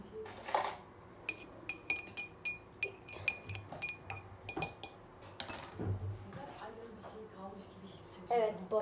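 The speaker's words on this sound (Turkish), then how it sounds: "Bir tane çay kaşığıyla karıştıralım şunu" A teaspoon stirs lemon juice and water in a glass, a quick run of bright, ringing clinks against the sides in a steady rhythm, followed by someone talking.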